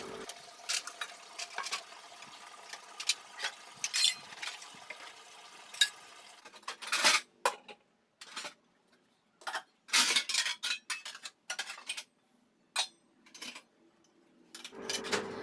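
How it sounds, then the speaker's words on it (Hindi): Dishes washed by hand at an outdoor spot in the evening, with irregular clinks, taps and splashes of water coming in scattered bursts, close and fairly quiet, with no one speaking. "आ गई मैं यहाँ पर बर्तन धोने के लिए शाम के"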